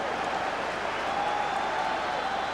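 Football crowd at a Rangers v Hibs match applauding steadily, a broad even wash of clapping and crowd noise from a distance with a faint tone running through it.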